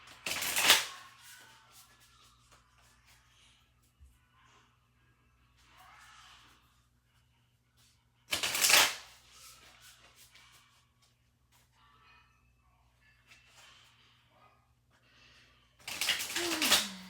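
Oracle cards are shuffled in three separate brisk bursts spaced several seconds apart, with quiet handling and faint rustles between them.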